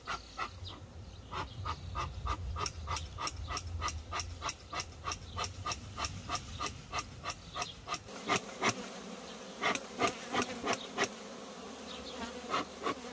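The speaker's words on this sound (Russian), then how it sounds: "пчелы разозлились и уже начинают атаковать" Angry honeybees swarm around a village beehive during queen-cell removal, a dense, loud buzz with individual bees zipping close past in rapid bursts, rising and fading repeatedly.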